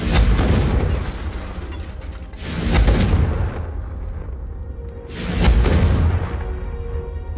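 The Confringo fire spell goes off in Hogwarts Legacy on PS5, making three loud, booming fiery blasts a couple of seconds apart, each with a sharp onset and a rumbling tail.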